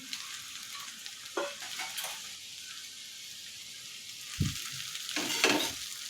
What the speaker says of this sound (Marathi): आता मी ते भिजवून घेतलेले पोहे घेतले आहेत ते याच्यामध्ये टाकते